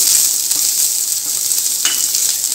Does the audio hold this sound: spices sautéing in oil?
yes